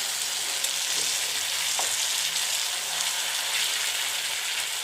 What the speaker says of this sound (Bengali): সর্ষে একদম মাখিয়ে কড়াই দিয়েছি, এবার একটু উল্টে দেবো